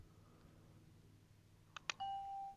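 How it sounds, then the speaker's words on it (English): A doorbell chimes faintly near a doorbell camera, a couple of quick ding tones followed by a sustained ringing note over low background hum. "Is the bird gonna ring the doorbell?"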